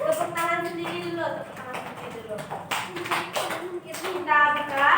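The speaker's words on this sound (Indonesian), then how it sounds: "Tepuk tangan sendiri dulu" A group of children clap their own hands in a group guidance session, with short bursts of scattered claps mixed in among voices talking.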